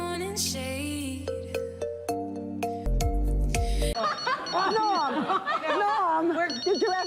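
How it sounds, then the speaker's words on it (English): A telephone rings with a repeating electronic bell tone amid studio audience chatter and laughter during a Saturday Night Live comedy roast, the ringing loud and clear before voices and laughter take over. "The phone is ringing."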